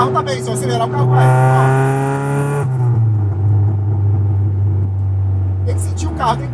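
Close up, a Ford Escort Zetec engine is revved hard, its loud climbing whine peaking then dropping back to a lower steady rumble before a brief final blip, with people talking alongside.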